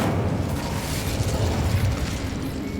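An Incendio fire spell in Hogwarts Legacy gives off a steady, loud rushing roar with faint crackling pops, holding a constant level for the whole stretch.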